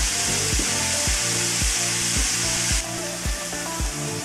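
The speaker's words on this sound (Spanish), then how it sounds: "doramos unos 5 minutos la cebolla con el apio y el ajo" Onion, celery and garlic browning in a pot for a Patagonian lamb stew give off a steady bright sizzle, with a rhythmic thumping beat running over it the whole time.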